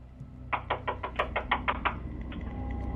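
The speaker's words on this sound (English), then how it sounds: "She knocks on the door and asks for help" About ten quick, sharp knocks rap on a house door in a burst, close and distinct, captured at night by a doorbell camera with a faint steady hum beneath.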